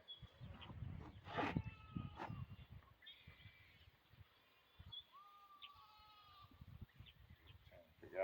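Goats bleat at a distance on a California ranch during a horse training session, several short wavering calls mixed with other animal noises and low rumbling in the background.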